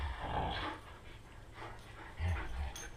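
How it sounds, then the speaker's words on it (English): Dogs playing indoors, with close panting, scuffling, low growls and small whimpers in uneven bursts throughout. "the dogs are playing nicely. They're just noisy"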